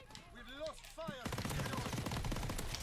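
Thompson submachine gun fire in Call of Duty: World at War, a dense run of rapid automatic shots that starts abruptly after a brief stretch of other game sound and carries on loud to the end.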